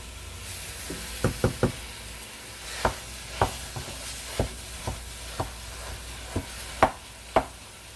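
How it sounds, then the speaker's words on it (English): Sharp knocks of a utensil against a pot, irregular and close, over a faint steady sizzle of ground beef and onions cooking as the beef is chopped and stirred. "we're just chopping all that up and mixing it together with the onions"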